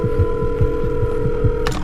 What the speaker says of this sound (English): I frantically dialed 911